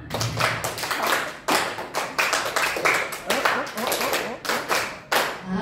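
Teachers at a training session clap a five-beat rhythmic pattern three times in a row, loud unison claps in repeated groups, with voices heard over the clapping.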